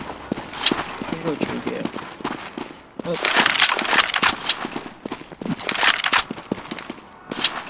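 AUG rifle fire from the game CS:GO comes in several rapid bursts, loud and sharp, separated by brief lulls, while a player talks over the action.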